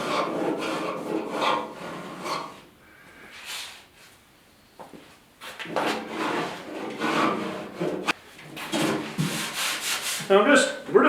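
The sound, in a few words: oscillating palm sander sanding car door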